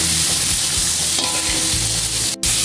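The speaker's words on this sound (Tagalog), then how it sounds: "Makaluhin po natin ang bahagya." Baguio beans and chayote sizzle loudly in a frying pan while a utensil stirs and scrapes them in a steady, close, continuous rhythm.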